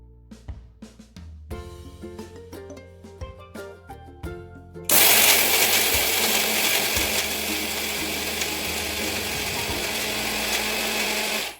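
A mixer grinder roars loudly and steadily for several seconds while grinding warm roasted rice, moong dal and dry fruits into powder, following a stretch of clattering and intermittent mechanical noises.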